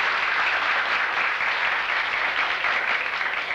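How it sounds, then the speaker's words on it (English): Studio audience on a 1968 television talk show applauding steadily, a dense, even wash of clapping that holds at full level throughout with no talk over it. "That burst of applause was..."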